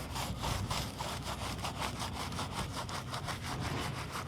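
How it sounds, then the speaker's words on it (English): A stiff brush scrubs steadily back and forth across the tire of an off-road Jeep Rubicon, a close, loud, continuous rasping with a regular stroke rhythm and no talking. "I'll get the brush and you could scrub it"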